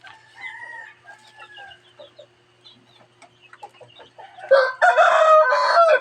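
Backyard chickens cluck softly in scattered bursts close by, then a rooster breaks in with a loud, long crow near the end.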